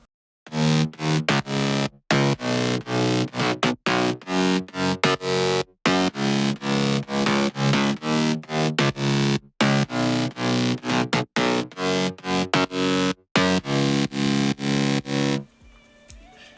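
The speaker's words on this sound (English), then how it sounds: "the whole bass layer without the sub should sound something like this." Punchy layered synth bass line without the sub layer, in choppy rhythmic bursts, gritty, chopped by short silent gaps, loud and steady, ending with a quiet tail.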